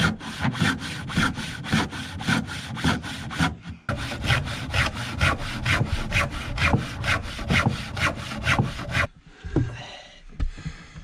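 Hand saw cutting through a thick maple board about 2 by 6 inches, with steady, loud back-and-forth strokes in a fast even rhythm, a brief pause near four seconds, then quieter scraping and handling at the end.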